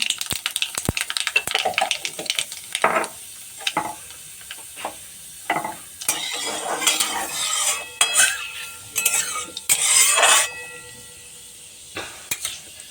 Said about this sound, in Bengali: তেলটা ভালো মতো গরম হয়ে গেছে হাফ চামচ কালো জিরে দিয়ে দিলাম